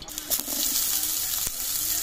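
A continuous crackling sizzle of potatoes frying in hot oil in a kadai, loud and close, with a few sharp pops.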